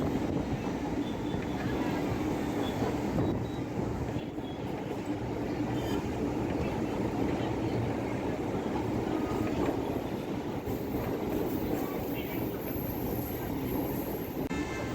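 A Chennai MRTS suburban train runs from Velachery toward Beach, a loud, continuous rolling rumble with rattling and faint rhythmic wheel clatter, heard steadily from on board throughout.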